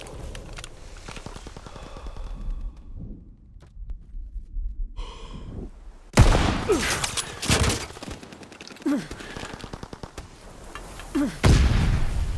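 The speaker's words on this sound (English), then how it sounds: "Sending mortar rounds." Mortar rounds firing in Call of Duty WWII on the USS Texas map, a quiet stretch giving way to loud broadband blasts and rumbling impacts from about six seconds on, with further bursts near the end.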